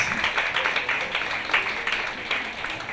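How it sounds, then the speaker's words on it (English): A crowd applauds with steady, dense clapping at a moderate distance, sustained throughout without pause. "Et on peut l'applaudir aussi."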